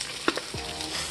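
Hash brown potatoes sizzle as they start frying in about three tablespoons of hot, shimmering oil in a skillet over medium-high heat, a steady close crackle with a couple of brief sharper spits at the start.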